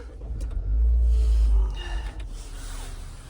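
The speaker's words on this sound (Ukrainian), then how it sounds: "Запускається двигунчик з пів оберту." A 2023-style Renault Captur SUV with a 1.2 TCe 120 hp petrol engine starts up close by, a brief low cranking burst that settles into a quieter, steady idle.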